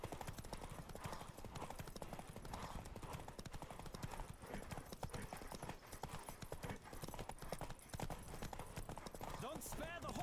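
Hooves clip-clop in a fast, steady gallop as a horse races in The Witcher 3, loud and close, with voices talking over the pounding rhythm.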